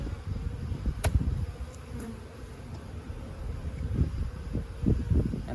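Honeybees fly around an open hive box during an emergency split, a steady close buzz of many insects with individual bees zipping past now and then.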